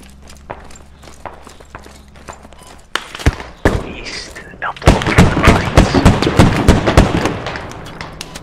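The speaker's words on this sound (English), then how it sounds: "They're still putting shots on the fucking building." Gunfire in the military shooter Squad cracks in a rapid stream of sharp shots and impacts, sparse at first then building into dense, loud bursts, with voices calling out underneath.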